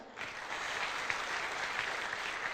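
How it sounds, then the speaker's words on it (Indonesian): A seminar audience claps together in a steady, even wash of applause that lasts throughout, fairly quiet and with no voices over it. "mohon aplaus untuk beliau"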